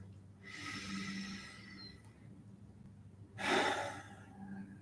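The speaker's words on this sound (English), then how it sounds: "Take a nice deep inhale and exhale a couple of times." Deep breathing during a meditation, two slow, close breaths of air rushing in and out, faint and soft, with a quiet pause between them.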